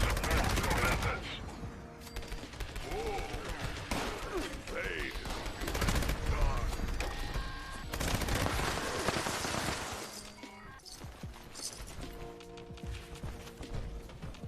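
Rapid, dense gunfire rattles close and loud in Fallout 76 as enemies shoot at defensive turrets, bursts overlapping with clanks and game effects almost without pause.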